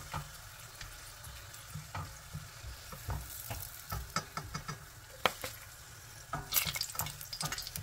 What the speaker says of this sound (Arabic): كي ينقص الحس نتاع الزيت بالشكل هذايا تعرفوا لي السلق تقلي